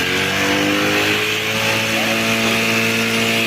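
A motorcycle engine runs after a new battery has been fitted, a loud, close, steady idle with a constant buzzing drone throughout and no talking.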